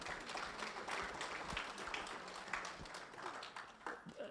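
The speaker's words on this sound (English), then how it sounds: "I think you need to clap for the panel now." Faint, distant applause from an audience at a multistakeholder conference, steady clapping for the panel that lasts a few seconds and sits low beneath room murmur.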